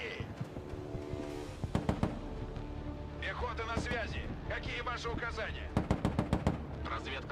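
Artillery fire in the real-time strategy game Broken Arrow, heard as a run of sharp booming impacts and rapid bursts over constant battle noise, with someone talking over much of it.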